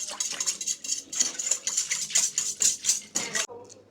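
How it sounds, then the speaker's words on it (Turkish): Spiced red sauce whisked in a bowl, a quick run of close metallic clinks and scrapes in an uneven rhythm, with faint talk under it. "şimdi hepsini çırpıyoruz güzelce"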